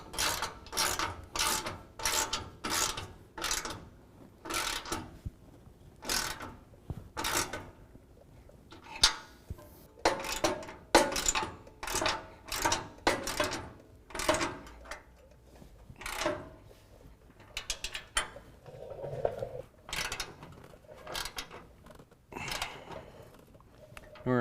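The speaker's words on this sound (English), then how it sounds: "Now we can tighten down the 3 bolts that are going from our bracket to our frame horn" A 19mm wrench and socket tighten the bolts of a front bumper bracket on a frame horn, giving a long series of sharp, close ratcheting clicks in uneven bursts with short pauses between them.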